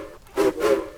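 Two quick, nasal honks from a cartoon steam engine's whistle, each about a quarter second, mimicking a duck's quack; loud and close with no talking.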